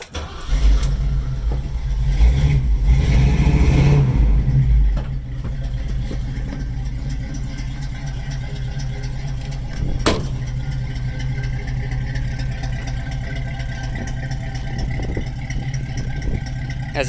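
A 1977 Ford Bronco engine with dual exhaust starts and revs with a deep, rumbling roar, then settles into a steady low idle; loud and close, no talking.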